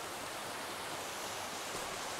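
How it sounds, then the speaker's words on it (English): Small waterfalls along a stream in the woods, heard as a steady, dense rushing roar with no pauses, fairly close and with no voices over it. "So I'm finding some more waterfalls, as you can hear."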